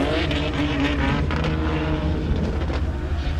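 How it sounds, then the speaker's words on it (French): A Nissan S15 drift car roars loudly at a French drift championship round, its engine and exhaust saturating the sound with dense, continuous blasts and rapid popping backfires from an anti-lag style map, heard close up with no voices. "des retours de flamme, même si on va pas se mentir,"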